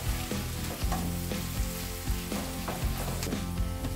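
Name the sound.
onion and garlic frying in a pan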